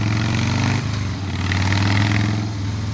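Harley-Davidson Softail motorcycle cruising at low speed on city streets, its engine giving a steady, loud, low throbbing rumble with a small dip in pitch partway through.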